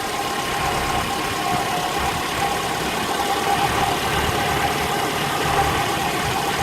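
A car engine idling steadily at close range while its ignition distributor is rotated to adjust timing on a roadside points fix, giving a continuous rumbling, slightly uneven hum with no talk over it.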